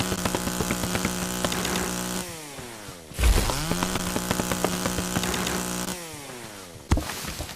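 A chainsaw in a tree-chopping video game revs loudly and continuously, its buzzing pitch sliding down and climbing back as it bites through trees, with a couple of sharp thuds where the cuts land.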